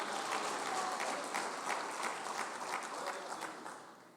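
A church congregation claps together steadily, a dense and fairly distant wash of applause that fades slightly toward the end.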